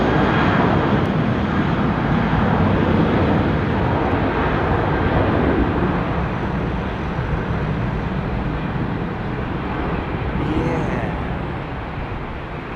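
A Qatar Airways Airbus A350-900 jet at London Heathrow roars loudly and continuously, a broad, rushing engine noise that eases slightly toward the end.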